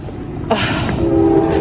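A passing train sounds its horn loudly and close by, a sustained tonal blast rising over the rumbling rail noise, heard from a car pulled over at the roadside.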